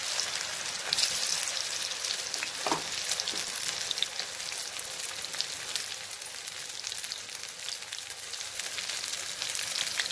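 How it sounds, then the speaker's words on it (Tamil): Soya chunks deep-frying in peanut oil over a medium flame, a steady dense sizzle and crackle that holds evenly throughout with no talk. "இது நான் கடலை எண்ணெய் யூஸ் பண்ணுறதுனால இது புதுசு புதுசுன்னு வரும், கொஞ்சம் நிறையா வரும்"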